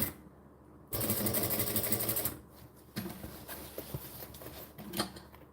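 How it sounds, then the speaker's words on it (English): A sewing machine stitches a bag at slow speed, running in a couple of loud mechanical bursts separated by pauses and quieter handling sounds. "I sew really slowly so it'll never happen"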